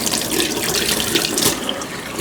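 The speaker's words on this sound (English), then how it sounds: "Now we're going to put our water in. Nothing fancy, straight out of the tap, but hot out of the tap." Hot tap water runs steadily from a kitchen faucet into 2-cup jugs for a no-knead bread dough, a continuous close splashing stream with no pauses.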